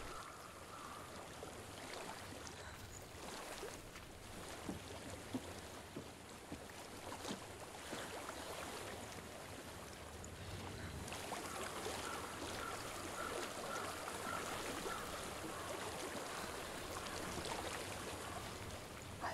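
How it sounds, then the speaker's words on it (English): Flowing stream water in the video game Hellblade: Senua's Sacrifice, a continuous broad rushing wash that holds steady and swells slightly louder partway through, with no voices over it. "I hear water. Go to it."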